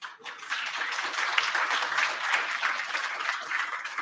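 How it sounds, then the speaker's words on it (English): Audience applause for a speaker at a talk, steady dense clapping from a room of people sustained for several seconds. "So big clap for Alex Capo."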